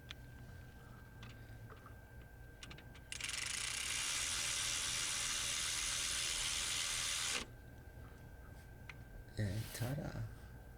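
Ratchet wrench clicking rapidly in one steady burst while installing the serpentine belt tensioner on a Land Rover LR3, loud and close over a quiet workshop background, with a few brief clanks near the end.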